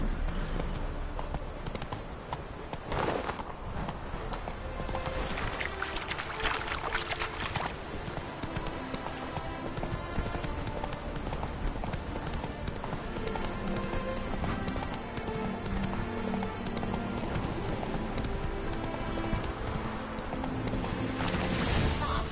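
A horse gallops in The Witcher 3 game, with steady rhythmic clip-clop hoofbeats close and loud for the whole stretch, alongside game sounds and brief voices.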